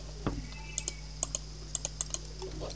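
Keys on a computer keyboard are tapped into a spreadsheet cell in a handful of crisp, close clicks, spaced irregularly over a low steady hum, with one soft thump near the start.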